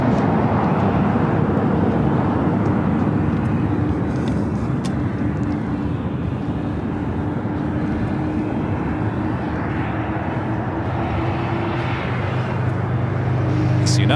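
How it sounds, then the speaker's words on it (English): United Boeing 777-200 arriving at LAX from Chicago O'Hare, a steady loud jet engine roar rumbling throughout with a sustained whine, close and continuous, with no clear talk. "United 777-200 coming in from Chicago, O'Hare, flight 2657"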